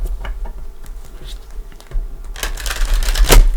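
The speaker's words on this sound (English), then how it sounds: "I'm going to give these a couple shuffles." Tarot cards being shuffled by hand, with light papery riffles and taps early on building to a louder, denser flurry of card shuffling in the final seconds.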